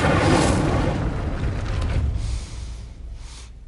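Incendio fire spell cast in Hogwarts Legacy, a dense booming whoosh of flame at full strength that tapers off over a few seconds, with no voices.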